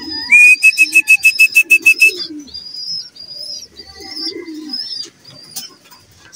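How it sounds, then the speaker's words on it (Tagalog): Racing pigeons at a training release: a loud burst of rapid wingbeats and a bright whistle-like tone at the start, then repeated soft cooing and chirping calls from birds close by. "Seven birds."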